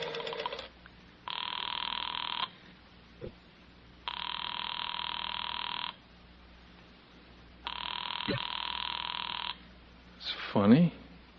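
A telephone bell rings in three long, even bursts with pauses between, loud and close, then a brief voice is heard just after the last ring.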